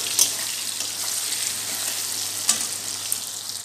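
Green chilies sizzle steadily in a pan of hot oil while shahi paneer is being cooked, a continuous close frying hiss with a couple of brief sharper crackles and no talk.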